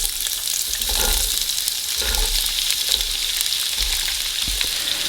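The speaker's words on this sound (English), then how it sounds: "I have a couple tablespoons of oil in a pan, heat it up to high, and then we're going to add in the chopped vegetables." Chopped onion, carrots, celery and minced garlic hit high-heat oil in a pan, giving a steady loud sizzle with soft scrapes of stirring throughout, no voices.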